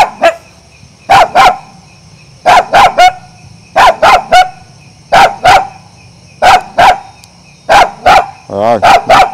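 A dog barks in repeated short bursts, loud and close, with pairs and clusters of barks separated by brief pauses and a low background hum.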